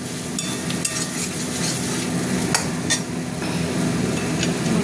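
A spoon stirs spice mix with coriander leaves inside a pressure cooker over low sizzling, with a few sharp scrapes and clinks against the metal scattered through the steady frying hiss.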